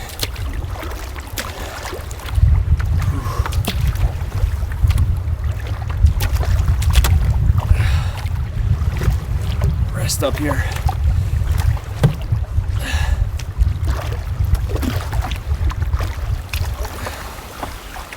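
Strong wind gusts buffet the microphone during a solo spring canoe trip on a lake in freezing weather, a loud, heavy low rumble that swells and persists, with water sloshing against the boat and brief speech.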